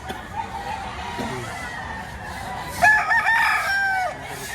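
A bull stag rooster for sale at a Batangas chicken market crows once loudly and close, a bright ragged cock-a-doodle-doo after a quieter stretch of faint background murmur.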